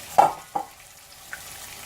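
Seasoned liver fries in a pan over turned-down heat, giving a soft, steady sizzle broken by three brief stirring scrapes, with no one talking.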